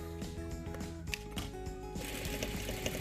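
A sewing machine stitches a fabric face mask, giving a close, rapid, rhythmic mechanical clatter that grows slightly busier toward the end, with no voices.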